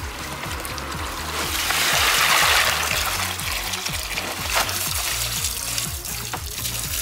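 Sand filter pump for a pool backwashing, a steady gushing flow of water with a low, pulsing motor hum underneath, close and continuous throughout.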